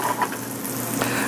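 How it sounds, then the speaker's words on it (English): Onions sautéing in a preheated pan give a dense, continuous close sizzle for a short moment with no talk. "pan is preheated and I start by sauteing the onions"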